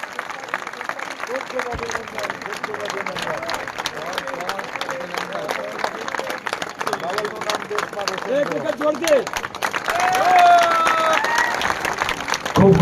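An audience claps steadily for a team being honored with flowers at a gathering, dense applause running the whole time and swelling louder near the end, with a voice talking over it.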